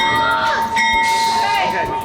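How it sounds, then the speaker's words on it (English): A bell rings steadily amid a large crowd at a birthday celebration in Union Station, its bright sustained tone cutting through constant loud crowd noise and voices. "Is somebody ringing a bell?"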